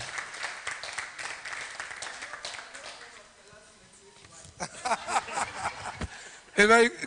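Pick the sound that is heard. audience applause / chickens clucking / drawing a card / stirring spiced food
audience applause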